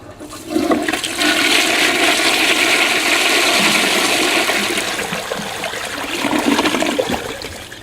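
A wall-hung toilet under repair flushes with a loud, sustained rush of water lasting several seconds, tapering slightly before a second surge near the end.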